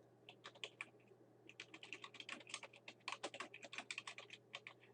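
Rapid clicking keystrokes on a computer keyboard, close and fairly quiet, in an uneven stream of dozens of taps with a low steady hum beneath.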